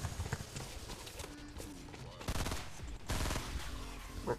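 Gunfire in the Fortnite video game during a zombie fight, with dense bursts of rapid shots layered over game music and effects, loudest in two sustained volleys toward the end.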